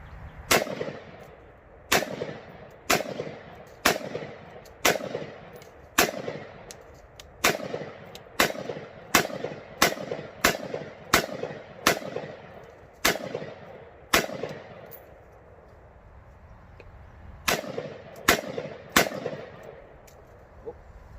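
Rapid single gunshots from an AR Stoner upper ring out one after another, loud sharp cracks with short echoing tails, in uneven bursts broken by a few pauses.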